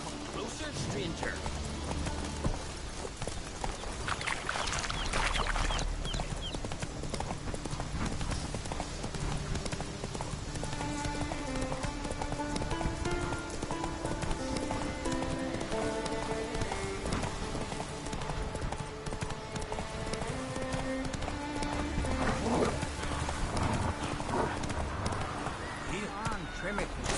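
Roach the horse gallops in The Witcher video game, hooves drumming in a steady rhythmic clip-clop throughout, mixed under orchestral music and occasional character voices.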